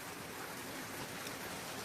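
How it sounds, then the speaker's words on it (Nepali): Rain falling in a steady, even hiss, soft and distant, with no voices. "पानी आउँदैछ बिस्तारै बिस्तारै बढ्छ"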